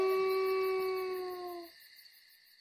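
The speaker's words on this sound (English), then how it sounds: "It was a sad howl." A lone wolf gives a single sustained, mournful howl, clear and fairly close, fading out after a couple of seconds into quiet.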